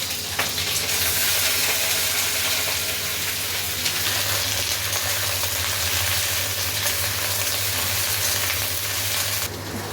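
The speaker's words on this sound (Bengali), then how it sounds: "একটু ভাজার পর নুন দিয়ে দেওয়া হলো, একটু ভালো করে ভাজা ভাজা হবে, একটু তেল বেশি লাগবে এটাতে।" Okra fries in oil tempered with nigella seeds, giving a steady, dense sizzle with constant hiss and occasional stirring, close and even throughout with no talking.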